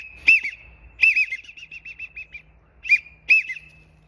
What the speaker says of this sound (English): the widgeon whistle will bring every one of those ducks right to you